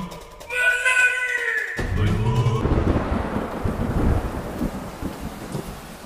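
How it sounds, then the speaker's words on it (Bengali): Heavy rain pours steadily with deep rolls of thunder, after a brief opening passage of tonal sound, loud and close throughout the stretch. "বাইরে অঝরে বৃষ্টি হচ্ছে, মাঝে মাঝে বাজের শব্দে মনটা কেমন যেন রোমাঞ্চিত হয়ে উঠছে"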